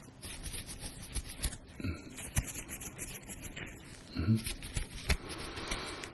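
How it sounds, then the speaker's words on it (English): Fingers rustle close beside the ears during a fast cranial nerve exam roleplay, soft scratchy rubbing bursts that shift from side to side in quiet intervals. "rustle my fingers on either side of your head. Tell me which side you hear the rustling"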